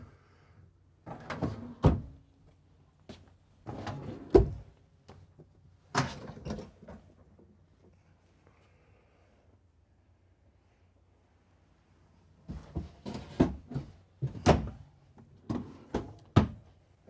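Deep storage drawers in a 2023 Newmar Ventana 3709 motorhome being pulled open and pushed shut, giving clusters of sharp wooden thunks and latch clicks in two bursts separated by a quiet pause, close and fairly loud with no talking.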